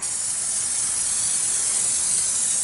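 Brake parts cleaner sprays steadily from an aerosol can onto the front brake caliper of a 2006 Dodge Grand Caravan, a close, even hiss lasting a few seconds with no pauses.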